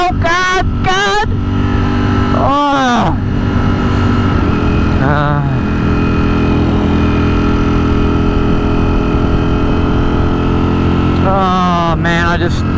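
A 2023 Ducati Streetfighter V4S motorcycle engine runs loud and close with a steady throb. Several sharp revs sweep up and back down at intervals, and a voice speaks over it.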